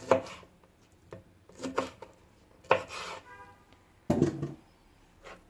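Roasted, peeled eggplant chopped finely with a knife: a few separate close knocks and scraping cuts with pauses between them, alongside faint clinks of kitchenware.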